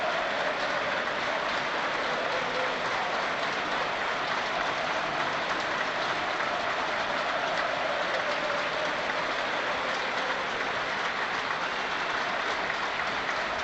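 A stadium crowd at a Sunderland versus Swansea City football match stands and applauds Tony Mowbray, a steady, dense wash of clapping that stays loud and unbroken throughout.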